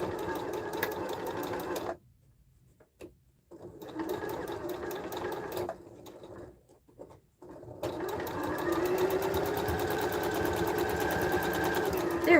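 A home sewing machine stitches a sling bag in bursts: a steady mechanical whir runs for about two seconds, then stops and starts a few times before a longer continuous run to the end, fairly close and alone.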